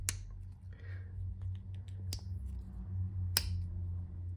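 Three sharp metallic snaps, widely spaced and close by, over a steady low hum with faint clicks between them.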